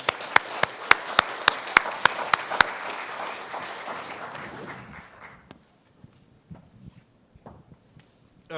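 An audience applauds a panel at a conference on state regulation: a few loud, evenly spaced claps ring out over a broad crowd clatter that fades after about five seconds, leaving scattered faint claps and thumps.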